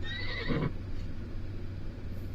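A horse whinnies once in The Sims 4 Horse Ranch, a bright, shaky neigh lasting about half a second, followed by a quiet low hum.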